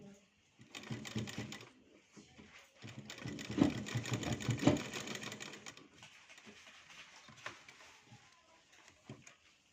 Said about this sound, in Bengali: মেশিনটা অনেক ধরাস ধরাস শব্দ হচ্ছে।